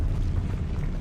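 Depulso spell cast in the video game Hogwarts Legacy, a dense low rumbling blast lasting about a second, loud and close with no talk.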